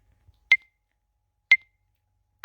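Two short, sharp electronic beeps from a TikTok camera timer countdown, exactly one second apart in near silence, then a third, longer tone begins right at the end.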